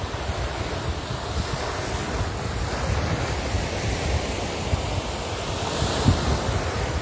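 Sea waves washing on the shore make a steady, broad roar throughout, mixed with wind buffeting the microphone, with no speech.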